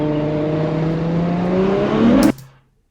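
A Ferrari 812 Superfast accelerates hard in second gear inside a tunnel, its engine note rising steadily in pitch and loudness, echoing close by, then cutting off abruptly with a sharp pop.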